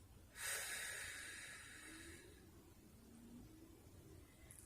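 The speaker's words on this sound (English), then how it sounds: "breathing out and drawing my belly button in" A single long, audible exhale through the mouth while the belly is drawn inward, done on all fours as a core exercise; the breath swells quickly, then slowly fades over a couple of seconds in a quiet room.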